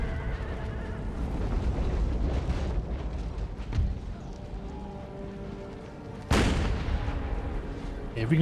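Cannon fire booms on a battlefield in Empire: Total War with the Empire 2 mod, a sudden heavy blast standing out from a quiet rumbling backdrop in which horses whinny and hooves clop.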